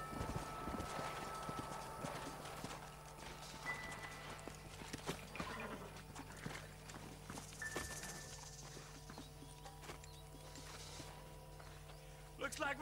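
Horses in the western video game Red Dead Redemption, hooves clip-clopping steadily at a walk with an occasional whinny, set under game music and ambient sound while voices talk.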